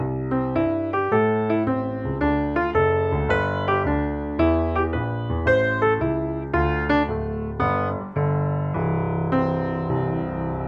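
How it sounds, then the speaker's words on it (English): A solo keyboard plays the rhythm changes jazz chord progression using chord inversions, with steady rhythmic chord strikes in a continuous flowing sequence of about ten seconds. "This is a very popular jazz chord progression called rhythm changes."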